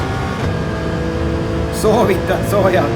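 Race car engine in Gran Turismo 7 on PlayStation 5 with PSVR 2, driven on a Playseat Trophy rig with a Thrustmaster wheel: a steady engine drone with rising rev sweeps near the end, partly under talking.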